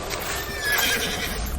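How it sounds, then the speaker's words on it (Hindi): A horse whinnies in a single drawn-out, wavering neigh, fairly close and clear, with faint hoof sounds beneath and no talking. "अरे घोड़े की आवाज"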